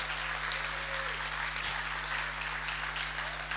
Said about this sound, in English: And I know that applause is for Star Wars as well.